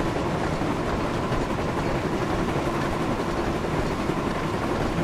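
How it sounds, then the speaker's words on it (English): Jubilee class steam locomotive from the Wonders of Sodor game running at very high speed, a loud continuous rumble with fast rhythmic clatter and churning. "I got the Jubilee class from Train Sim World Spirit of Steam up to 127 miles an hour of Wonders of Sodor"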